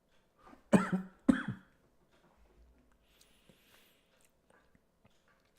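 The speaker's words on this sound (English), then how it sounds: "keep coughing" Two loud, close coughs in quick succession, a faint short cough just before them, followed by near silence with scattered faint small noises.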